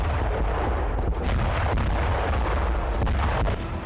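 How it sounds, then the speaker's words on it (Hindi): Cluster bomb blasts in the Russia–Ukraine war at Bakhmut go off one after another as a continuous loud rumbling roar with sharp cracking bursts layered on top, heavy and sustained throughout. "धरती पर एक के बाद एक कई धमाके हुए।"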